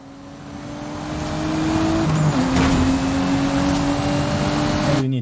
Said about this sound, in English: Here I just used the beautiful and quite well sounding GTR V-Spec.